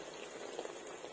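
Sardines fry in coconut oil in a clay pot, giving a faint, steady bubbling crackle with a few slightly louder pops, close and alone.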